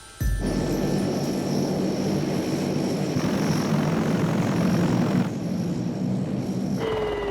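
Four propeller engines of a Lockheed Electra run in a loud, steady drone that starts abruptly and holds throughout, with a slight drop in level near the end and no voices.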